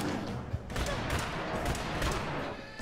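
Rapid gunfire in the mobile game Fallout Shelter, a dense crackle of repeated shots at low volume over a busy game background, with a voice talking.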